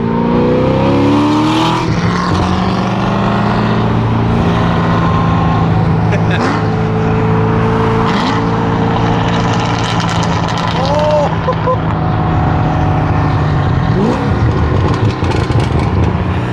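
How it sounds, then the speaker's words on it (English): A Corvette Z06 engine rumbles loudly and steadily, its tone dipping and rising with a burble between gear shifts, with people talking over the noise. "I like that little burble that these cars have."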